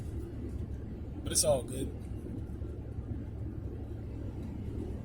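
A steady low car-engine rumble runs throughout while someone talks over it during a drive.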